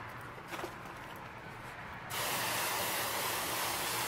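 A steady, loud spray of water rinsing a car starts abruptly partway through and keeps hissing without pause, preceded by quieter background noise.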